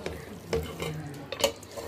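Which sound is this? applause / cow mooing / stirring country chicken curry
stirring country chicken curry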